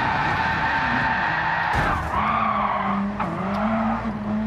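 Race car tires squealing and skidding as grip is lost in Gran Turismo 7, a loud wavering screech over the steady engine drone, rising and falling in pitch for several seconds.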